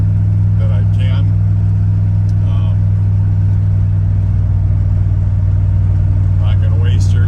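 A 1986 Dodge W100 truck driving along, its engine giving a steady, loud low rumble and hum throughout, with faint voices in the cab.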